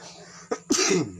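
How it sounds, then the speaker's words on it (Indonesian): A single person sneezes up close, a short intake followed by a loud burst that trails off, with no talking. "Saya agak bersin."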